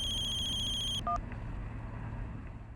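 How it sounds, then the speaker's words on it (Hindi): A phone rings with an incoming call: a bright, pulsing electronic ringtone for about a second, then it cuts off, leaving a low background hum and a brief beep. "वाइफ का फोन आ रहा है"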